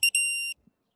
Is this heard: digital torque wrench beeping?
yes